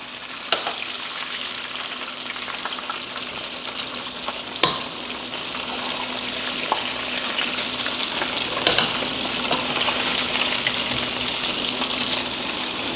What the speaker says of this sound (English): put these in the oil there, we're letting these fry